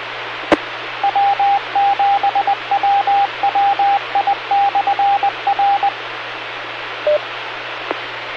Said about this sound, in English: I heard an ID there in CW, W7WWI/R for a repeater